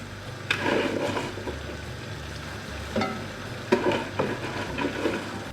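Rice and cabbage stirred in a pot for a ragout, producing soft scraping and clacking strokes that repeat unevenly against a low background hum.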